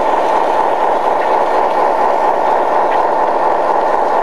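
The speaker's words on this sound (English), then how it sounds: "you can see John's train now going underneath the access bridge to the middle loop" A model train runs under an access bridge on a layout, giving a steady, close, continuous rumbling hum with an even level throughout and no talking.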